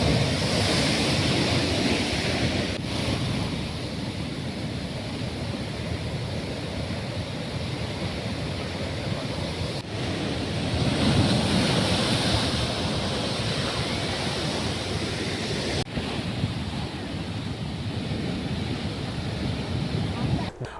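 Strong wind and heavy rain roar steadily as a broad, continuous wash of noise with surging gusts, loud and close, at Uppala in Kasaragod during a monsoon storm; no voices are heard over it.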